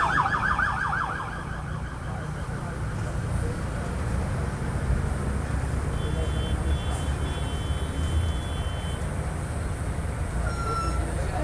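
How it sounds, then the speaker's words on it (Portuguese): A distant ambulance siren wails briefly at the start, then fades into a steady rumble of traffic and engine noise on a busy street in Natal, Brazil. "Ambulância aí."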